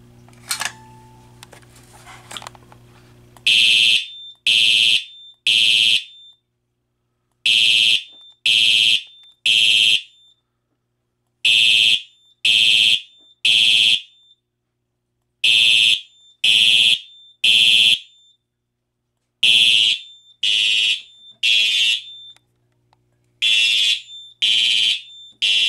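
Fire alarm system under test, sounding in a repeated pattern of three loud, shrill electronic blasts separated by pauses, preceded by some brief handling noise.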